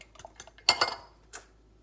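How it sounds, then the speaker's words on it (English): Eggs and sharp cheddar cheese being whisked in a bowl, a few quick clinking taps of utensil against the bowl, close and fairly light, with no talking. "Whisk until all mixed together."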